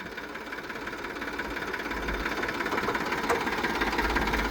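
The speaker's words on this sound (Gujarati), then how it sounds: "હવે ટ્રેક્ટરને સ્ટાર્ટ કરીએ." A tractor engine idles just after starting, a close, steady low rumble with a rhythmic knocking throb that grows slightly louder and holds with no talk.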